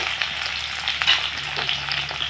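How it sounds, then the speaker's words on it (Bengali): Chopped tomato, ginger, garlic and green chili fry in hot oil, giving off a dense, steady hiss with faint stirring scrapes, close and constant throughout. "এই সমস্ত উপকরণগুলো দিয়ে আমি খুব ভালো করে লাল করে ভেজে দেব"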